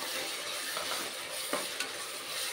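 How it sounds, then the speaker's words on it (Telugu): A thick paste of ginger-garlic, coconut, cashew and tomato fries in oil for a chicken gravy curry, giving a steady close broadband sizzle with a couple of soft stirring knocks, no voices. "ఈ పేస్టు కూడా బాగా ఫ్రై అయ్యేంత వరకు ఫ్రై చేసుకుందాం"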